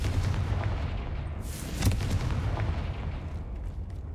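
A Confringo blasting spell cast in Hogwarts Legacy, a heavy booming burst over a dense rumbling bed, followed by a sharp crack and a fading roar.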